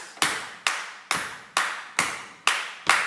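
Seven sharp, evenly spaced single hand claps ring out close and loud with short decays, keeping a steady pulse during a G major pattern lesson, with no talking.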